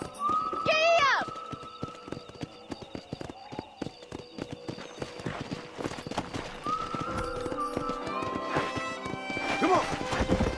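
Horse hooves clip-clop at a steady galloping rhythm in the Western video game Red Dead Redemption, with a whinny near the start, close and loud under game music and spoken dialogue.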